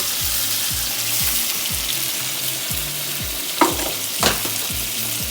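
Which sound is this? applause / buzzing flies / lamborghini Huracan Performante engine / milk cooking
milk cooking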